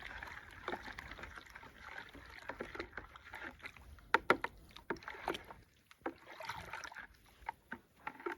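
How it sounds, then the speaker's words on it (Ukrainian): Copper sulfate dissolving in water is stirred for a Bordeaux mixture garden spray, giving faint sloshing and swishing of liquid with a few sharp knocks of the stirrer against the container. "Ось так залили ми водою наш купорос. Розмішуємо."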